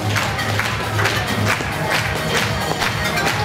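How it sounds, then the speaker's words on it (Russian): Rhythmic, loud clapping from an audience applauds a school choir of fourth-grade children at a farewell-to-first-teacher celebration, sustained and even throughout with a crowd murmur underneath. "Еще раз аплодисменты вам"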